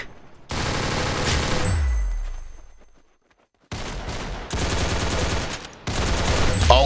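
Rapid automatic gunfire rattles in a mobile shooter game, coming in dense loud bursts with a decaying tail and a brief silence before more fire resumes.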